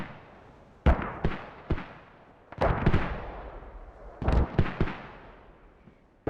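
Mortar fire in the Squad video game: a series of sharp booming blasts at uneven intervals, each ringing out with a rumbling tail, some in quick pairs, fairly loud with no talk.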